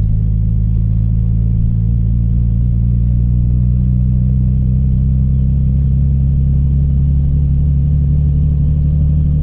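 2JZ-swapped Nissan 240SX cruising in second gear, a loud steady low engine rumble heard from inside the car with a constant drone and no clear revving changes.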